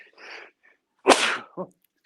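A single loud, close sneeze bursts out after a faint breathy lead-in, followed by a short trailing sniff, during a sports podcast discussion of the Buffalo Bills and Denver Broncos.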